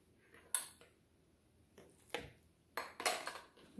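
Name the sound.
mixing peach jello dessert mixture in a bowl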